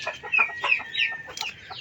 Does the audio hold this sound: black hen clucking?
yes